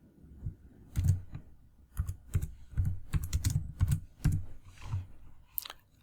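Keys on a computer keyboard tapped in short, irregular bursts, close and fairly quiet, the soft clacks clustering into quick runs with brief pauses between words.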